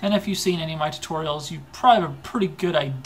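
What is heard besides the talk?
No everyday noises stand out.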